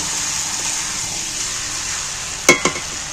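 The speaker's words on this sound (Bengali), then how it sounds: "সব মশলাটাকে মিক্স করে একসাথে কষতে থাকি" Spices and ginger paste frying in a pan for a chicken dish give a steady close sizzle, broken near the end by two sharp clatters of a stirring spoon.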